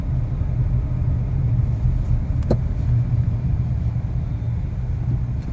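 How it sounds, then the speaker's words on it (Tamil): Suzuki Grand Vitara hybrid SUV cruising at about 40 in EV mode, a low steady road rumble and tyre hum inside the cabin with a brief click midway, no engine note rising, and no talk. "இப்போ வந்து நம்ம 40 போயிட்டுருக்கோம், இவி உள்ள ரன் ஆகிட்டு இருக்கு வண்டி"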